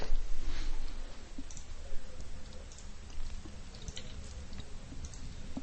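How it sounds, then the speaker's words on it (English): Keyboard keys clicking in quick, irregular taps during a break in a strategy game, close and fairly soft over a low background hum, with no talking. "If you hear me typing, it's usually not good, but it's educational either way."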